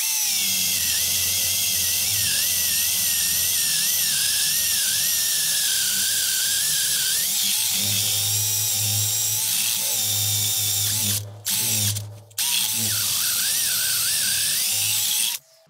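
A Niteo 12V cordless drill whines at high pitch, its motor rising and falling as it bores holes, with brief stops near the end.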